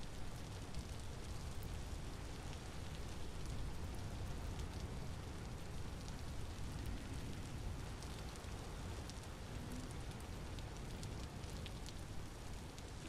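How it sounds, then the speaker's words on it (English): Rain falls in the survival video game Vintage Story, a soft, even, continuous hiss of drops that stays faint and steady with no voices. "That must be some really cold rain."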